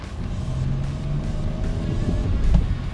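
A 1991 Dodge Stealth R/T twin turbo driving, its engine a steady low hum heard from inside the cabin, rising slightly toward the end.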